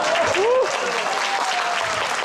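Concert audience applauding the singer's family, continuous clapping with a brief voice gliding over it near the start, then a steady wash of applause.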